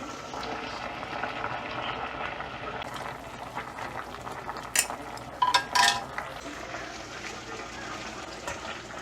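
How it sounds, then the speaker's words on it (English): Pot of water at a rolling boil for pasta: a steady bubbling hiss that runs throughout, with a few brief metallic clinks from the pot near the middle. "Water's boiling."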